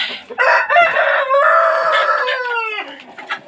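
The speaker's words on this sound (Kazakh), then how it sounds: "Тауықтар." Rooster crowing loudly and close, one long drawn-out crow with a few short chicken clucks around it, no talk.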